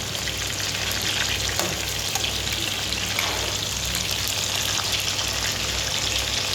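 Onions frying in a pan for a quick onion and tamarind sabzi, a steady, dense sizzle that holds evenly throughout with no voices.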